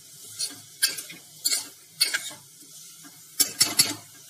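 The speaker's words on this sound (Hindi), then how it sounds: "मिक्स कर देंगे इसे भी मसालों के साथ। इसको आधा मिनट भूनेंगे" Sprouted lentils sautéing with spices in a pan for a mixed sprout curry, heard as a run of short scraping stirs in bursts over a faint background sizzle, close and alone without talk.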